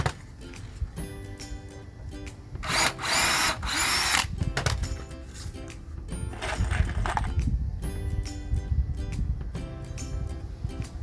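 A power drill bores a hole, whirring loudly in a few bursts between quieter clicks and handling noises, heard close up with no voices.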